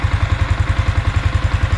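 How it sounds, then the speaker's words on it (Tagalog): A Yamaha Sniper 155 motorcycle engine runs at idle, a close, loud, fast and steady thumping pulse under a hissing mechanical clatter. The bike has a fault that makes it sputter and stall while riding, traced to a fuel filter. "Maandar na yung motor mo."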